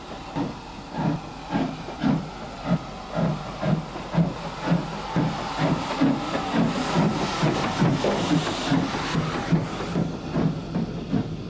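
A steam locomotive hissing and chuffing, with rhythmic puffs of steam repeating steadily at close range over a continuous hiss, loud and alone without any talk.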